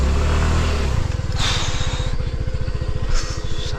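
A motorcycle engine revs hard while the bike is bogged in deep mud on a Kalimantan forest trail, giving a loud, close, pulsing rumble with rattling bursts of throttle and no speech.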